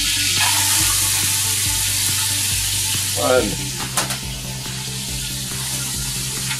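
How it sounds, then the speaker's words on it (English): Chopped onions, including green onions, go into a pot of hot bacon fat, a steady close sizzle with a louder hiss as they drop in, followed by a few stirring knocks and continued frying. "now we're going to add our onions to the pot"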